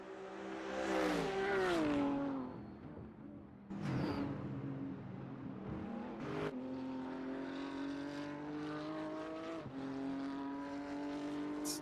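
BMW and Aston Martin race cars climb a long, twisting uphill section of an NLS endurance race, their engines revving hard and shifting up through gears as they pass close by, with no talk.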